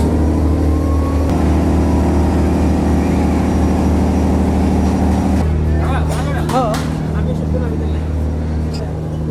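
The passenger launch Shundorban 7, travelling from Barishal to Dhaka, gives a loud, steady engine drone with a low hum that shifts partway through, while people talk over it.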